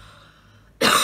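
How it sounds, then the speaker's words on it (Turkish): One short, loud cough bursts out close to the microphone after a near-silent pause. "Evet, öksürüklerim başladı."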